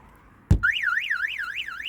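An Abarth 595 car alarm goes off after a knock on the body sets off its shock sensors: a sharp thump, then a loud warbling electronic siren sweeping up and down in a steady repeating cycle.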